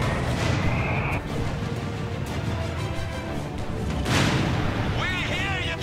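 Mortar rounds and grenades bursting on a winter battlefield in Company of Heroes 3, a dense roar of booms and blasts with a sharper burst near the end, mixed with radio chatter and voices talking throughout.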